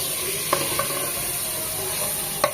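Chicken pieces fry with whole spices, onion and a few slices of ginger, giving a loud, continuous close sizzle broken by a couple of sharp stirring clinks, with no voices.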